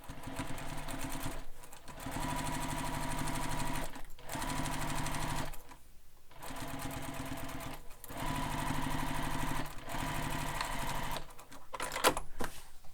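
A sewing machine stitches fabric pieces of a sling pack together in several fast, whirring bursts, each separated by brief pauses, close and clear with no talking.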